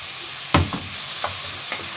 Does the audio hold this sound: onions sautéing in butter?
yes